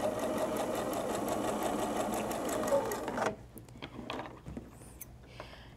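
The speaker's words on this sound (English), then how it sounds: "I like to chain sew to save time" A sewing machine chain-sews patchwork pieces in a fast, steady close-up whir for about three seconds, then stops, leaving light handling clicks and rustles.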